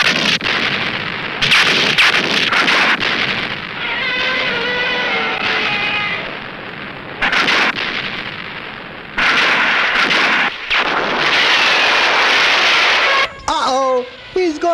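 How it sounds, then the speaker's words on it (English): Gunfire and artillery from the 1966 kaiju film Gammera the Invincible come in loud, sustained bursts and booms, broken by short pauses and mixed with orchestral score and brief shouted voices. "Open fire!"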